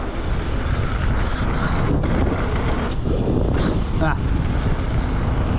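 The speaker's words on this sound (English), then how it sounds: "So much wind." Heavy wind buffets the microphone in a steady, loud roar throughout, with a brief spoken exclamation partway through.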